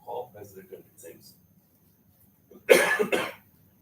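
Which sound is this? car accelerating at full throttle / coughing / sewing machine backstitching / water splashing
coughing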